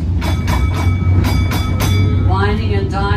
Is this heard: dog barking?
no